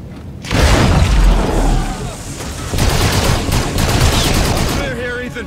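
Heavy gunfire from a Call of Duty: Infinite Warfare firefight, loud dense bursts with booming impacts rolling across several seconds, with brief spoken lines mixed in near the end.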